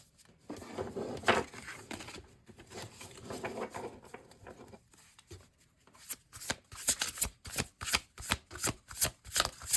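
An oracle card deck is handled and then riffle-shuffled, ending in a quick run of crisp, rhythmic card flutters heard close up.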